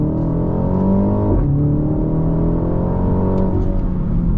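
A 2023 BMW M235i Gran Coupe pulls hard under full throttle in sport mode, its engine note loud and close as it climbs steadily through the revs, with a quick dip and recovery at a gearshift partway through.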